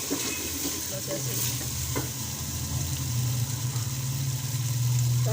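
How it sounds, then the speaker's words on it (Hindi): Potatoes frying in a pan give off a continuous, fairly loud sizzle with stirring scrapes throughout, and a low hum rises underneath toward the end. "आलू भून गए हैं, बस मसाले जो डालते हैं हल्के फुल्के मसाले डालूंगी"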